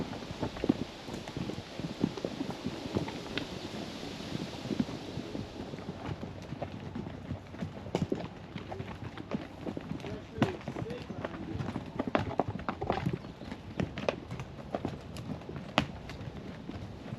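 Horse hooves clip-clop steadily along a trail during a ride near the Grand Tetons and Jackson Hole, a continuous rhythmic patter of steps with faint wind and brief voices in the background.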